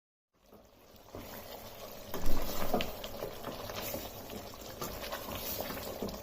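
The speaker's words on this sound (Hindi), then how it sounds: "तेज़ आंच पर मैंने इसे 5 मिनट तक भून लिया।" Punjabi-style chicken curry gravy sizzles and bubbles in a pan over a high flame, a soft steady crackle and burble that starts after a short silence and grows slightly louder.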